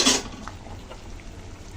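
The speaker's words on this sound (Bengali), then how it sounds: "ঢাকা দিয়ে দিলাম" A lid set onto a cooking pot of taro (kochur mukhi) curry gives one quick metallic clank at the start, followed by faint kitchen rattles and near quiet.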